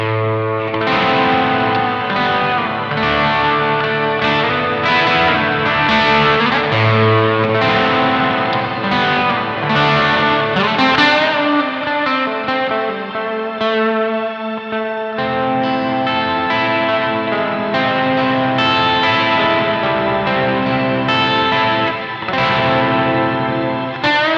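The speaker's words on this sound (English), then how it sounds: "Really nice shimmer reverb there." A Nux Verb Core Deluxe shimmer reverb pedal washes a played guitar in octave-up shimmer, dense sustained chords and notes blooming into a long, loud, continuous tail.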